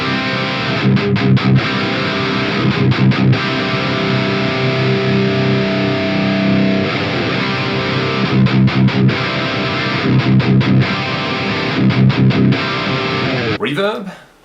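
Electric guitar run through a Mercuriall Reaxis amp simulator with the chorus effect switched off, playing loud, distorted sustained chords in a steady rhythm with short choppy breaks, then cutting off abruptly at the end.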